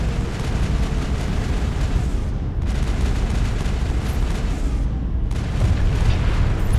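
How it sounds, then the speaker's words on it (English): In Mass Effect, a rocket barrage produces a dense, continuous, loud roar of overlapping explosions and rumbling blasts with no pause across the whole stretch. "Watch out for the rockets."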